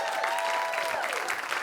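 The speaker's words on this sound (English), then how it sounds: "Give her another round of applause." A live storytelling show audience breaks into steady, moderately loud applause, a continuous patter of many hands with a faint crowd murmur beneath it.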